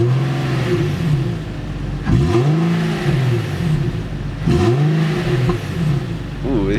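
Infiniti G37 V6 with a budget aftermarket exhaust revving loudly up close, two sharp throttle blips rising and falling over a steady idle rumble, with faint talk in the background.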